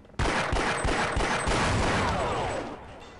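Exploding barrels in Half-Life during the Surface Tension chapter: a sudden loud blast followed by a dense rumbling series of rapid detonations that slowly fades.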